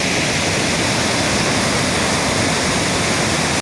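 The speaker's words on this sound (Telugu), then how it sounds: "ఎగువన కురుస్తున్న వర్షాలకు బొగత జలకళను సంతరించుకుంది పాల నురగలతో జలపాతం పర్యాటకులను ఆకట్టుకుంటోంది" Bogatha waterfall in full spate after heavy upstream rains, a loud, steady, close roar of crashing water that fills the whole clip without a break until it cuts off abruptly at the end.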